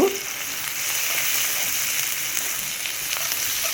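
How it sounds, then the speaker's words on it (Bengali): Chopped onions sizzle steadily in hot mustard oil in a wok, a dense continuous frying hiss that holds even and fairly loud from start to finish with no voices. "কড়াইতে সর্ষের তেল দিচ্ছি এখন দেওয়ার পরে কেটে রাখা পেঁয়াজ দিচ্ছি দিয়ে পেঁয়াজটাকে একটু ভেজে নেব"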